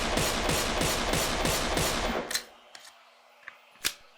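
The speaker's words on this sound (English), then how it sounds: "Here's the pistol." Rapid gunfire from the video game Black Mesa rattles loudly and continuously for about two seconds, then gives way to a few scattered clicks and one sharp crack in near silence.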